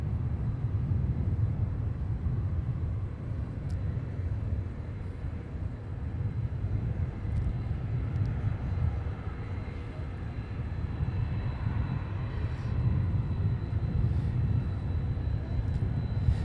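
A fixed-wing aircraft lands, heard as a steady, distant low engine rumble and roar that holds at an even level throughout, with no talking.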